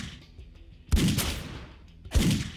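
Two pistol shots in the post-apocalyptic tactical game Dustwind, each a loud sharp crack with a short decaying tail, about a second apart.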